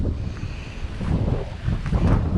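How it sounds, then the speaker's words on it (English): Wind blows steadily across open water at a muskrat trapping spot, a broad rumbling gust with mic buffeting that swells louder near the end, close and continuous with no talking. "This wind blowing is nice because it keeps all these like biting flies out of here"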